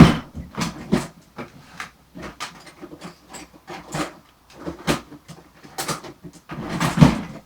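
A desk drawer is opened and rummaged through, with repeated close knocks, scrapes and rattles of objects shifting inside in an irregular rhythm.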